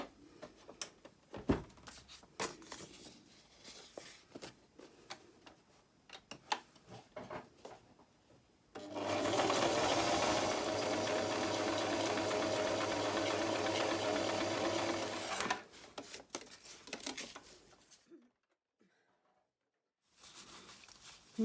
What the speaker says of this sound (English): I will sew around these